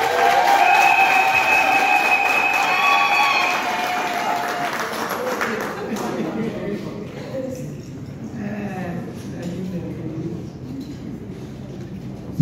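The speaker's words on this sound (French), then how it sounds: "Donc on va acclamer." Guests at a civil wedding applaud and cheer: loud clapping with bright whoops at first, easing into a softer, lingering patter of applause and crowd murmur.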